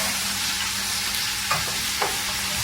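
Potatoes sizzle steadily in a hot pan, a dense even frying hiss with two soft scrapes as they are stirred and turned.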